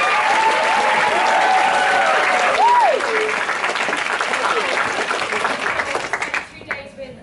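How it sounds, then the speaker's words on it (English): A group bursts into sustained applause at an NCS 2016 programme gathering. Dense clapping holds loudly for several seconds, with a few whistles mixed in, then thins out and fades near the end. "round of applause for all people"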